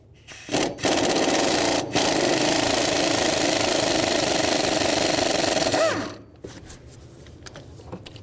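A power tool zips out an 11mm steering linkage bolt on a 2000-06 GMC Yukon, a loud continuous rattling whir lasting about five seconds between brief starts and stops, then quiet clinks.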